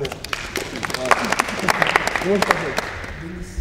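Audience applause with scattered sharp claps mixed into a steady crowd wash, while a voice speaks over it throughout at close range.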